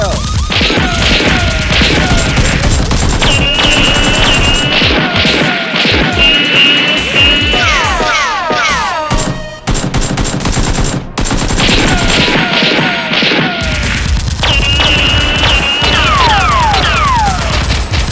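Toy foam-dart blasters fire in a loud, sustained barrage during a mock police and SEAL team battle, a dense rattle of rapid shots and clatter running almost continuously with one brief break.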